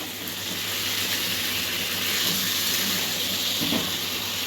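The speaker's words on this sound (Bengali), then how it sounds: "ভালো করে এবার কষবে।" Fatty mutton fries in a pan with whole garam masala, giving a steady close hiss of oil sizzling that swells slightly and holds for several seconds, with no speech.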